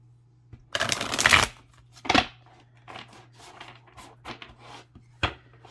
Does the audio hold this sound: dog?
no